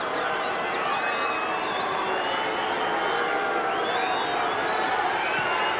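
A big stadium crowd at Subiaco roars and cheers steadily through an Australian football match between West Coast Eagles and Collingwood in 1996, with whistles and whoops rising above the continuous wash of noise.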